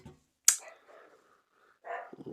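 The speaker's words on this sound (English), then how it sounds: "There's a little battle going on between the neighbourhood dogs outside there." Distant neighbourhood dogs bark and snarl in short scattered bursts while fighting, separated by quiet gaps, faint and outdoors.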